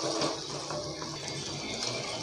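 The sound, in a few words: pouring reserved broth water into a pot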